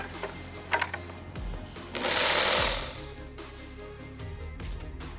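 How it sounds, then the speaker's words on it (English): Jigsaw cutting into a Vault Tec sign panel for a Fallout-themed garage cabinet, one loud buzzing cut of about a second amid quieter workshop clatter and thumps. "let's try to see if we can jigsaw it for my Vault Tec sign."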